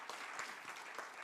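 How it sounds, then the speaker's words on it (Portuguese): A church congregation at a REMAR Portugal congress applauds, a brief burst of dense, steady clapping from many hands. "Dá-lhe um aplauso nesta manhã"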